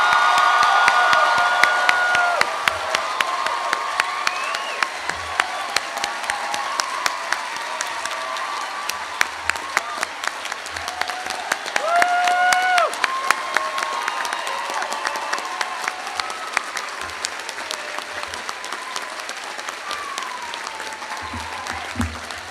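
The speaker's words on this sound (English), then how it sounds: "Let's give them a generous round of applause." A large crowd at a college commencement breaks into sustained, generous applause, dense clapping with scattered cheers and whoops lasting over twenty seconds, with a few voices calling out.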